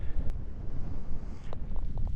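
Steady wind rumbling across an open golf hole, a broad low roar buffeting the microphone throughout with only faint brief knocks on top and no talk.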